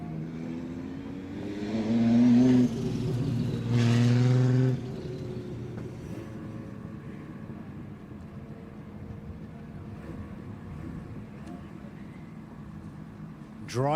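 A drift car screams on a D1GP race track in Malaysia with a loud, rising rev for a few seconds. It then drops to a quieter, more distant engine drone that trails off.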